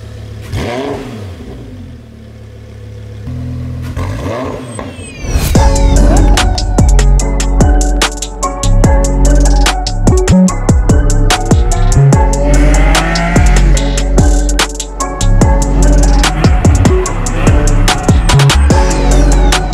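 Lamborghini Huracan with a newly fitted custom exhaust starting up after a quiet lead-in, then a loud close series of sharp throttle blips and sustained high revs with crackles between pulls.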